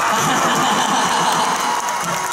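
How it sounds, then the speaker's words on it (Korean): Dense, steady audience applause at a Busan KNN stage show fills the whole clip, loud and continuous, with a broad wash of clapping and no voices standing out. "박수 한번 주세요"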